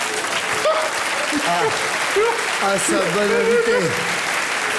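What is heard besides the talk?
audience applause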